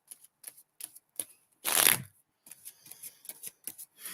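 Tarot cards shuffled during a love and career reading: a series of short, crisp riffles and taps, then one louder, longer riffle burst in the middle, followed by more quick light card shuffles, close and with no talk.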